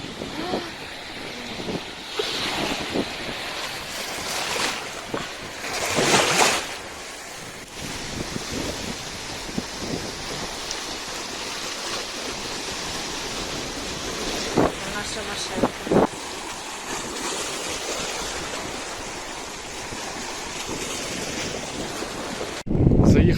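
Waves surge and wash onto a wild beach in Turkey with steady wind buffeting the microphone, continuous and fairly loud throughout.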